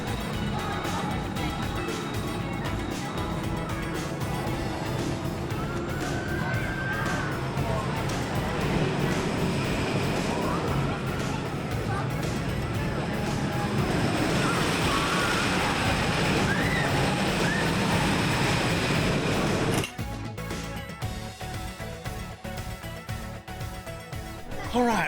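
A ride on the Leviathan roller coaster at Sea World brings a constant roar of wind and rushing track noise with rising and falling swells, cut off sharply near the end into quieter clatter.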